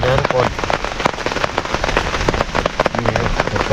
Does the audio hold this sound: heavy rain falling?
yes